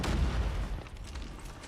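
A grenade going off in COD Mobile, a loud booming blast that hits at the start and then decays into a rumbling tail with faint scattered pops, no voices.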